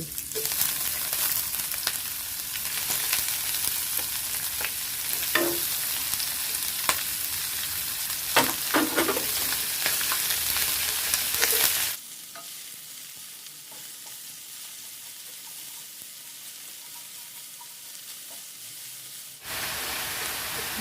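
White chives are stir-fried with tofu and minced pork in a hot pan, a loud continuous sizzle with scraping and clatter for about twelve seconds, then quieter frying before the hiss surges again at the end.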